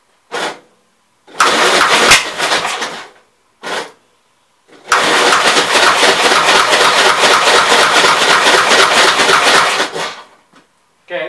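A 1957 Gravely walk-behind tractor engine with a suspected points fault cranks in short bursts, then fires and runs roughly for several seconds up close before cutting out.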